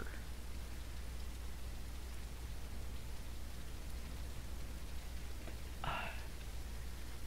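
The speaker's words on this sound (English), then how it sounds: "it's raining again" Steady, even rainfall hisses throughout, with a brief faint sound near the end, in the video game Ranch Simulator.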